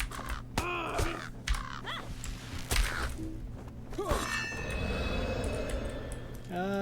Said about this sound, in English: Just back here fighting a bird.